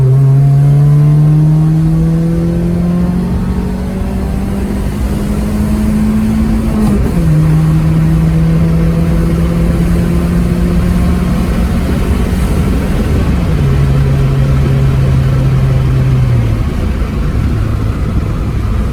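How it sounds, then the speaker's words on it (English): A 1992 Toyota Paseo engine accelerates steadily, its pitch climbing through gear changes with brief dips between, loud and close with no talking. "All right, little acceleration part next."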